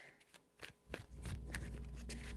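A deck of tarot cards is shuffled by hand, giving a few quiet riffling bursts at first, then a denser continuous shuffle, faint and close with no voices.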